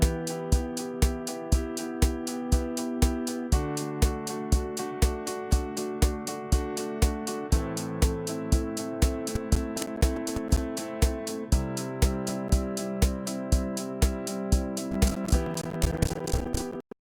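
A drum kit sample looped several times in Soundtrap plays with a steady kick pulse, crisp repeated hits and layered tonal backing, a continuous groove at moderate volume with no voices.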